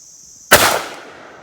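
A single sharp blast from a 12 gauge shotgun firing a hand-loaded shell of an ounce of 7.5 shot, loud and close, with a short decaying echo after a quiet start.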